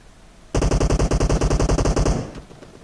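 Automatic rifle fire in PUBG Mobile: one loud, close sustained burst of about twenty rapid shots at an even rhythm, ringing briefly after it stops.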